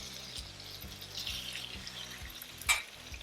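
Carne picada and onions sizzling on a Blackstone griddle, a steady hiss with rhythmic scraping strokes of a spatula on the flat top every half second or so, and one sharp clink near the end; close, no talk.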